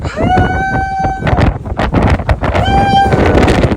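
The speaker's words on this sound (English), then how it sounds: "it's so windy, so cold." Loud, steady, cold wind roar buffeting the microphone throughout on the Appalachian Trail, with excited voices shouting over the gusts.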